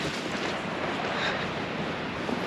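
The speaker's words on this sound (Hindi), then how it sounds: "मस्त पानी बह रहा है, बहुत क्लियर पानी है।" Clear Yamuna river water flowing along the road from Dehradun toward Sankri, near Yamunotri, makes a steady, full rushing wash that holds even and close throughout, with no voices.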